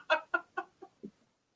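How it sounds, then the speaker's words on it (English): Chickens cluck in five short, sharp bursts spaced at an even rhythm, close and clear, the last ones softer and lower before silence. "I could have did without the chickens."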